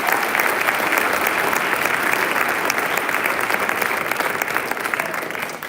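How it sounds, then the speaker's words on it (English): Audience applause fills a fall sports award ceremony, a dense, steady clatter of many hands clapping that holds strong for several seconds and tapers slightly at the end. "just one more round of applause for these guys and the work they've done"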